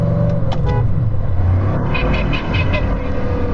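A Bugatti Chiron Pur Sport and a Chiron Super Sport launch in a drag race, their engines giving a loud, sustained roaring rumble.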